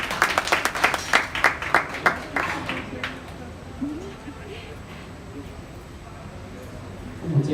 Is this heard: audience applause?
yes